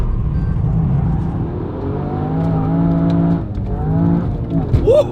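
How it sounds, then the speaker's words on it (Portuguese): A Toyota GR Yaris, a three-cylinder rally car, accelerates hard with a rising engine note through successive gears, heard from inside the car under a fairly loud, steady cabin roar. "Por mais que eu puxe e que eu carregue e esprema o acelerador, ele empurra-nos para a frente"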